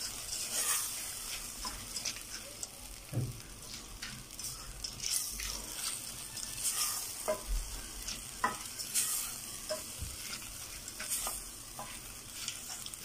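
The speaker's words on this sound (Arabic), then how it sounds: "هنقلب الرز حلو قوي كده" Basmati rice stirred in a hot pot, a steady sizzle of frying grains with repeated scraping strokes of a spoon against the metal, close and continuous, with no voices.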